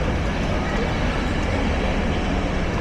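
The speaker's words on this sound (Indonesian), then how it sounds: "Ini keretanya datang ya?" A EuroCity train passes through a station with a steady, dense rumble and roar that holds at constant loudness throughout, with no clear voices over it.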